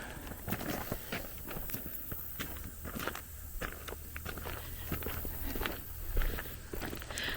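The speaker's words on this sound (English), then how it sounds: "I love the sound of our footsteps, don't you?" Footsteps crunch along a trail in a Florida nature preserve, a steady walking rhythm of close, crisp steps over a faint outdoor background.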